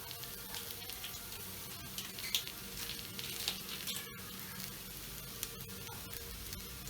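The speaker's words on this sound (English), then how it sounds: "We can now add in the spices, so that includes 1 teaspoon of coriander powder, 1 teaspoon of cumin powder, 1 teaspoon of garam masala" Steady sizzle of coriander powder, cumin powder and garam masala frying in a hot pan for malai kofta, a continuous crackling hiss with faint stirring scrapes and no voices.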